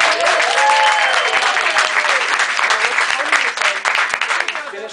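Crowd at a radio station's Halloween trick-or-treat meet and greet gives a round of applause, steady clapping with cheers and voices mixed in, fading toward the end.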